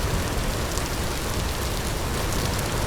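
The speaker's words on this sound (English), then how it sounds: "oh, the rain's quite heavy, isn't it?" Heavy rain pours down steadily, a dense, loud, unbroken hiss of drops beating on surfaces throughout, with no voices.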